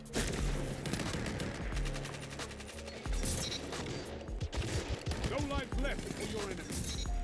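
Rapid bursts of gunfire and booming shots from the shooter game Destiny, dense and loud, mixed with other game effects and a voice talking over the action.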